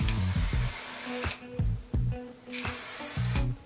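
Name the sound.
hairspray being sprayed on hair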